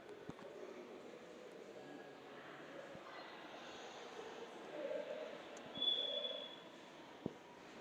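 Metro train at a Pretoria CBD station, a low continuous rumble of rail transport under the ambient noise of the station hall, with a few faint clicks and a brief high squeal.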